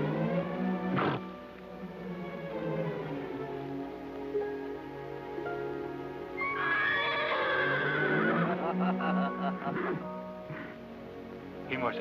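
A horse neighs and whinnies loudly in a Zorro adventure film, with a long high whinny near the start and another drawn-out neigh later, mixed with voices and some clip-clop.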